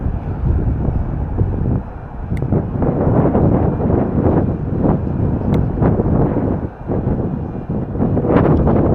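Strong coastal wind buffeting a microphone outdoors in Cornwall under a strong wind warning, loud continuous low rumbling gusts that swell and dip, no voices.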